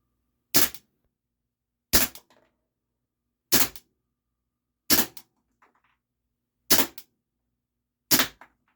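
Luger P08 and P38 air pistols fire six sharp, close pops at roughly even intervals of about a second and a half, with quiet between shots.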